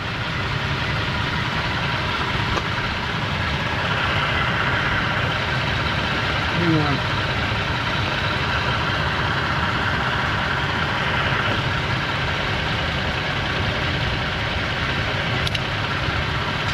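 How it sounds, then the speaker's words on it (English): A Toyota truck engine idles steadily in the background with a low, continuous rumble, while someone briefly speaks nearby. "Alright, the truck is running."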